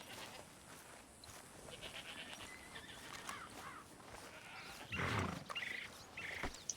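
A horse whinnies amid ambient noise from the video game Red Dead Redemption 2, a loud neighing burst near the end followed by shorter calls and faint hoof clops.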